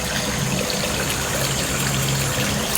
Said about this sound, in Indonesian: Ada sungai juga di bawahnya.